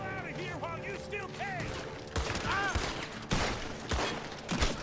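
Gunfire in Red Dead Redemption 2, a western shootout: repeated loud shots crack out in bursts during the second half, amid game chatter and calling voices, with earlier stretches of talk and background noise.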